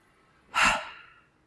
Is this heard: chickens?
no